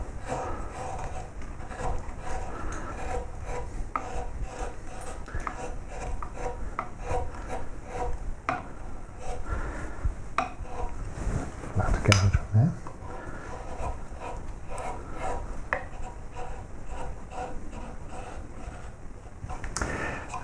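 Carving tool cutting away wood on both sides of a koi carp dorsal fin, a close, continuous scraping and rasping with a sharper knock near the middle.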